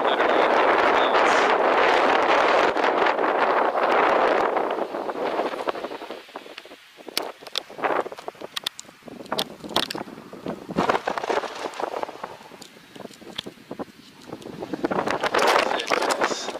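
Strong wind on Roan Mountain, high in the Roan Highlands of Tennessee, buffets the microphone in a loud, sustained roar, then eases into gusty, intermittent blasts and crackles before swelling again near the end.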